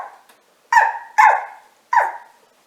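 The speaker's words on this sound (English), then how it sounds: "the little girl is already greeted by the castle dog, Scott" A castle dog gives three loud, close barks in quick succession, each bark trailing off with a slight whine, with short silences between them.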